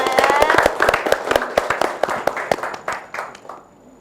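An audience breaks into brisk, fairly rhythmic applause, close and lively at first, then thinning and fading out over a few seconds.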